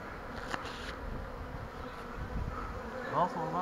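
Honeybee swarm being moved into a hive with smoke, a low steady buzzing hum of many bees nearby, fairly quiet, with a brief louder passing buzz near the end.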